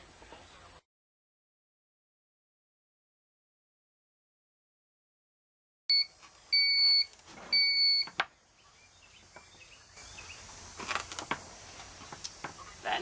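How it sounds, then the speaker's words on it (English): A small toaster oven sounds a short series of beeps once preheated to 400 degrees, three bright tones in quick succession near the mic, followed by faint kitchen rustling and handling noises. "That noise you just heard is the oven preheating."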